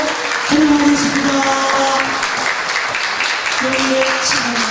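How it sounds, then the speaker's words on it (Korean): Audience applause welcoming a guest at a special lecture event, steady dense clapping throughout, with a voice speaking or singing over it. "큰 박수로 환영하겠습니다"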